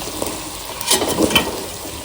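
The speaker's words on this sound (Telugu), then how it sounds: "మనం కళాయి పెట్టుకుని నూనె పోసుకుని అందులో డీప్ ఫ్రై చేసుకోవాలి" Chicken pieces deep-fry in oil in a kadai with a continuous bubbling sizzle, swelling as food is moved around, with a few soft clinks. No voices are heard.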